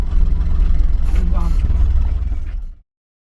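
A loaded goods truck pulls up to a loading dock with a close, steady low engine rumble that cuts off abruptly near the end, and faint voices are mixed in.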